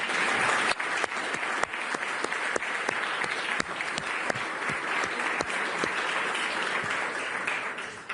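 Conference audience at the ECB Forum in Sintra applauding, a sustained, even roar of many hands with a few sharper individual claps standing out, fairly loud and continuous for about eight seconds.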